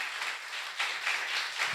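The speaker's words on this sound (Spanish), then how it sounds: "¿Quieren darle un aplauso al Señor esta mañana?" Church congregation applauding during a morning service, a soft, steady patter of many hands clapping at a distance for a couple of seconds, with no talking.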